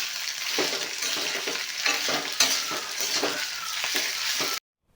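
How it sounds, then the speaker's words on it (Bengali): Potato pieces fry in a pan for Bengali aloo posto, a steady close sizzle with spatula stirring and light clinks of utensil on metal, cutting off abruptly near the end. "ভাজতে হবে, কারণ এই ভাজাতেই আলু কিন্তু সিদ্ধ হয়ে যাবে"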